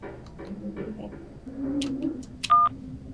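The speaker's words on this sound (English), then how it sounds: "Beep. You put your phone back on the nightstand." A short electronic phone beep in the game Scarlet Hollow rings out near the end, a bright steady tone following a stretch of soft, murmuring background sounds.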